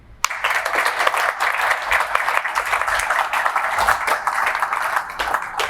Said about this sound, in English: And as you can hear from that applause